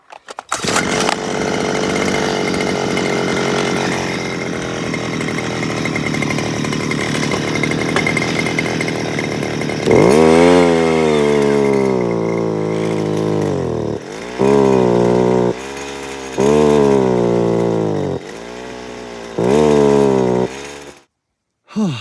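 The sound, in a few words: gas-powered auger engine running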